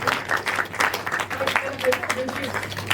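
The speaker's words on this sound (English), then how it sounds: "I propose that we clap for Sanjana" A conference audience claps, the applause steady but moderate and mixed with talking voices throughout.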